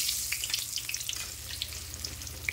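Dough pieces frying in hot oil in a kadai give off a steady close crackle and fizz, with small pops scattered over the sizzle and no voices.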